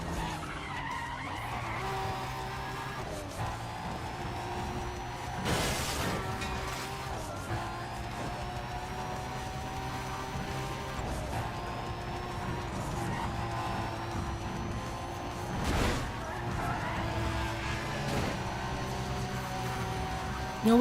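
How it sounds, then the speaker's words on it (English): Car engine roaring and tires skidding in the racing video game Need for Speed: World, a steady loud engine drone with gear-change sweeps and several sharp skid bursts throughout, no talking. "My god, this car sounds so good."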